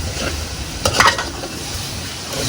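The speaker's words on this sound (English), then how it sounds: "I'm going to saute this, or as they call it in typical Hindi, bhuno, the mutton with the spices" Mutton sautéed in a pan with spices and asafoetida, a steady low sizzle and frying hiss with a brief burst of stirring scrapes near the middle.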